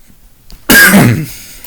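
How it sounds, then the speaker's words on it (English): A single harsh cough bursts out after a short quiet pause, loud and close, trailing into a rough throaty rasp. "Coughing again."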